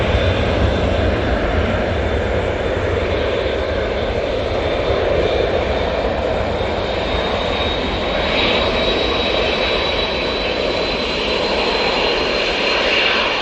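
A Qatar Airways Boeing 787 Dreamliner jet at Manchester Airport gives a loud, steady engine roar that fills the whole stretch without letup.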